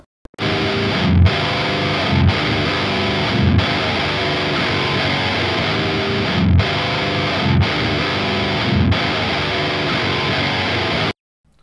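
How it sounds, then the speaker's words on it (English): Heavily distorted electric guitar played through Archetype Nolly amp plugins chugs out dense, saturated palm-muted riffs with short rhythmic gaps, loud and continuous on its own for about eleven seconds. "So I'm going to start off with a distortion tone"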